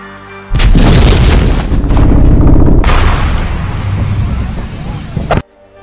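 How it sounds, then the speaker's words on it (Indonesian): A huge, loud bomb explosion in a bedroom in the film Munich (2005) booms and roars for several seconds, a dense low rumble with a high whine over it, then cuts off abruptly. "Ledakan dari bom itu yang diperkirakan hanya membunuh target di kamarnya, rupanya lebih kuat"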